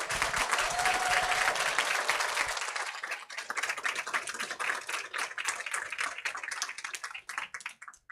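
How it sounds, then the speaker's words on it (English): An audience at a school district board meeting applauds students, starting as loud dense clapping that thins out into scattered individual claps toward the end. "give one really big loud round of applause for the students"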